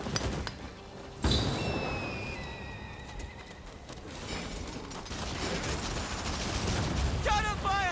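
Gunfire and horse whinnies ring out in a Rise of the Ronin battle scene, with a sharp burst of shots around the one-second mark, then steady combat noise, tonal calls and a neighing horse near the end.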